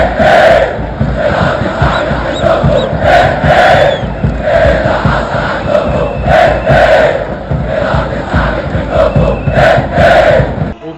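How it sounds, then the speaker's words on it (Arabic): Al Ahly supporters roar a loud, rhythmic chant in the stadium during a league match against Pyramids after a goal, a dense crowd repeating the chant in steady pulsing waves. "جمهور الاهلي على طول بعد الجون هز الملعب بهتاف"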